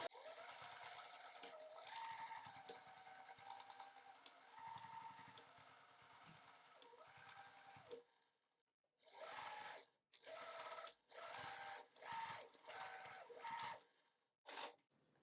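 A sewing machine runs steadily stitching a fabric bag panel, then stops and restarts in a series of short, close bursts as it sews back and forth to secure the seam.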